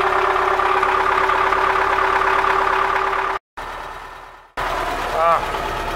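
An MTZ-80 tractor's diesel engine idles steadily and close after a start in frost, its drone broken by a brief dropout, with a short voice near the end.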